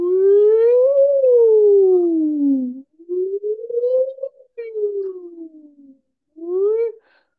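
A voice imitates an ambulance siren, sliding up and down in long wailing sweeps several times, loud and close, with short pauses between.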